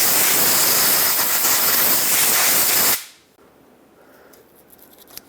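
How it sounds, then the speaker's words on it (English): Compressed air blasting rust penetrant out of the parking brake assembly on a Ford E-350 Super Duty van, a loud steady hiss for about three seconds that cuts off sharply, leaving faint shop noise and small clicks. "I'm going to blow it out with an air gun"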